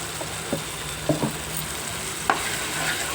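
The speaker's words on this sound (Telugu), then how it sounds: "పచ్చివాసన పోయిందాకా బాగా వేగించాలి" Fresh ginger garlic paste fries in a pan with a low, steady sizzle, punctuated by a few short scraping stirs and clinks, close and moderately quiet.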